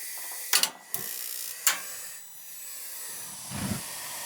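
A gas steam boiler lights with a few sharp clicks and a brief hiss, then a soft low whoosh as the burner catches, close in a quiet room.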